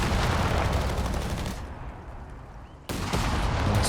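Rapid, dense gunfire roars from a weapon in the Company of Heroes 3 strategy game, loud and continuous, easing into a brief lull before bursting back in at full force.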